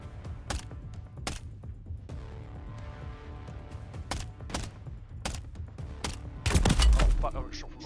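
Gunfire in Call of Duty Warzone 3, a battle royale match: sharp, scattered single shots and short bursts at irregular intervals over a low rumble, with a louder close burst near the end and voices chatting underneath.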